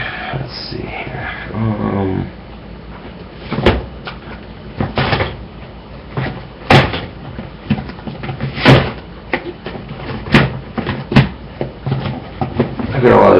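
Rummaging through a drawer full of VHS tapes, with repeated clattering knocks and plastic cases shifting at close range, irregular bursts over several seconds, a voice speaking now and then.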